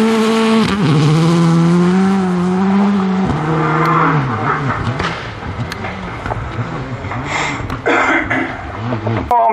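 A rally car races through a special stage of the Romjulsrally, engine revving hard and shifting pitch as it accelerates and brakes, loud and close with bursts of tire noise.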